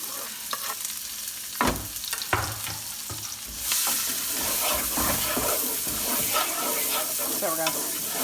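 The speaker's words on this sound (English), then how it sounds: "I got oil, and so I'm gonna start cooking the onions" Onions frying in oil at the start of a paella, a loud close sizzle with scraping stir strokes and clatter, swelling into a fuller steady hiss after the first few seconds, with no talking.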